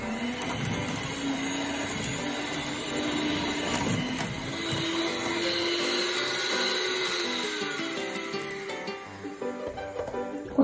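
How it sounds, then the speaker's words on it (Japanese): A hand mixer whirs steadily while beating softened butter in a bowl until pale, a continuous motor drone with shifting pitch as the beaters move, close and alone before stopping near the end. "これを白っぽくなるまでハンドミキサーで攪拌していきます"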